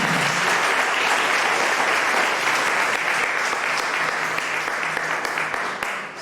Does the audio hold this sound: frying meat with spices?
no